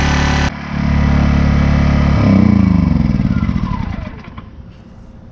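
A Predator 1400 inverter generator runs nearby with a steady, mid-pitched engine drone, a brief voice speaking over it before the motor hum fades somewhat.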